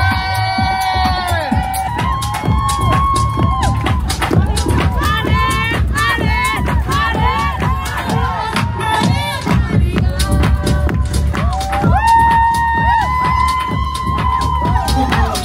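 A carnival crowd at the Nice carnival cheering and shouting continuously, loud and close, with whoops and voices layered over constant festive noise and music.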